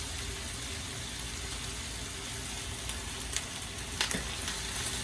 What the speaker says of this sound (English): I'm going to add some of the white wine right now.